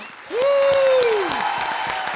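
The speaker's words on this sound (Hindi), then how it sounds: "John Ibrahim, ladies and gentleman, जोरदार तालियां।" A studio audience on a Hindi comedy show claps loudly to welcome actor John Abraham, with a bright rising whistle-like tone sweeping over the crowd noise before the applause continues steadily.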